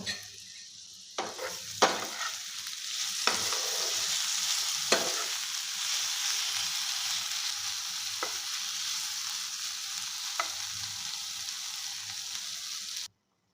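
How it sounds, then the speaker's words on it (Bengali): Pointed gourd slices fry in an uncovered pan, a continuous moderate sizzle broken by several sharp scrapes and knocks of a spatula stirring, ending abruptly. "এবারে ঢাকনা খুলে পটলগুলোকে নাড়িয়ে নেব"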